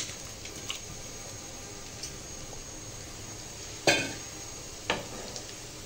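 Pre-fried rohu fish goes back into a pan on a home stove, giving a quiet, continuous sizzle. A few sharp utensil clinks stand out against it, one louder knock near the middle.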